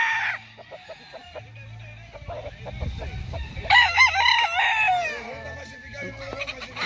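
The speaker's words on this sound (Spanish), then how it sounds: "Muñeco, es un gallo valiente, vio ese gallo joco." A fighting rooster at a Panamanian cockfighting gallery crows loudly and clearly near the middle, with shorter calls and clucks around it and people talking in the background.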